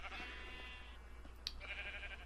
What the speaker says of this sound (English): I'm still going to shear the sheep, though.